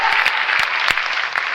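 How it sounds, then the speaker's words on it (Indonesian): A church congregation applauds during a sermon, producing thick, steady clapping with a few sharper individual claps standing out, loud and continuous, with no speech. "Tepuk tangan bagi Tuhan."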